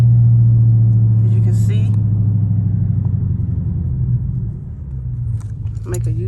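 An SRT Mopar car driving along with its engine running: a steady low droning rumble throughout, with someone talking over it and a few light rattles near the end.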